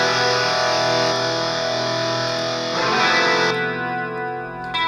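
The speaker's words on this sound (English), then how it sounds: "it's really hard to do the chords justice when you have all this distortion on it" Heavily distorted electric guitar chords ring out loud and sustained, a dense wall of effects-laden tone with a brief shift in texture near the end.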